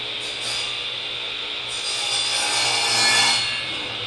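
Hand saw drawn back and forth through wood to trim a bird feeder piece, a few close rasping strokes of rising and falling loudness, with no talking.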